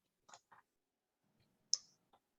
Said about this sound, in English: I am going to click search.